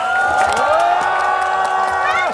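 A festival crowd at the opening ceremony of the Hamyang wild ginseng festival cheers and shouts loudly, with high whoops and voices dominating and a little clapping mixed in.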